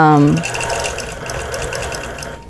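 A sewing machine stitches quilt blocks for a patriotic quilt, running steadily and close for a couple of seconds after a brief voice at the start.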